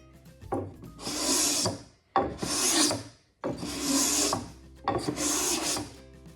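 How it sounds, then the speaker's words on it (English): A No.80 cabinet scraper drawn across wood in four steady, close rasping strokes, each about a second long with short pauses between. "A No.80 Cabinet Scraper."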